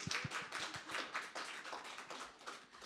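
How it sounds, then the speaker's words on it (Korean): Audience at a book concert in an arts hall clapping, a dense round of many hands with distinct sharp claps near the start, steady and fairly close for a few seconds. "다시 한번 박수 부탁드려요."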